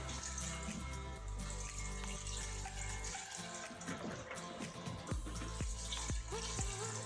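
Vegetable broth pours steadily into a pot, a continuous gurgling splash like a tap running, with a few small drips and knocks toward the end.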